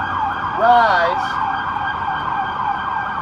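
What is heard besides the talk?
emergency vehicle siren passing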